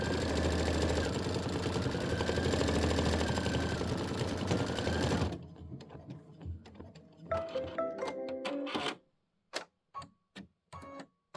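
Embroidery machine sewing a tack-down stitch on fabric for a Kimberbell wallflower quilt block: a steady, dense mechanical whir that stops partway through, then short bursts of stitching and a few isolated needle clicks.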